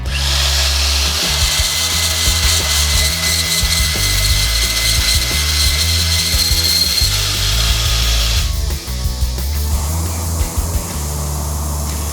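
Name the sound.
belt sander shaping carbon fiber knife handle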